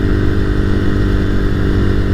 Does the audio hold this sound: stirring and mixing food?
no